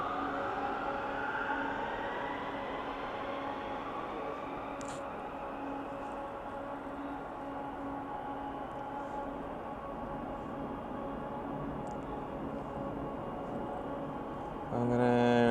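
A driverless Riyadh Metro train arrives at the station with a steady, loud rolling hum and rising tonal whine, and a brighter burst comes as it draws in at the end; no one speaks.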